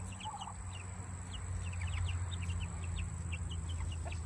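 Soft clucking from several meat chickens and larger chickens behind mesh under a steady low rumble, with scattered bird chirps mixed in the background.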